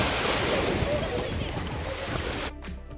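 Shallow sea surf washes continuously onto Ras Tanura beach in Dammam, a steady loud roar of waves mixed with wind buffeting the microphone, dropping off slightly near the end.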